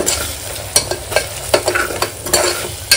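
Masala and spices being stirred in a pan for paneer pulao, sharp clattering scrapes of a spoon at an uneven rhythm over a constant sizzle, close up and with no voices.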